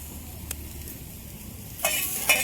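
Onion roasting in a pan on a home kitchen stove, starting as a faint low background with a brief click, then a sudden bright sizzle bursting in near the end as the onion is stirred, no talk.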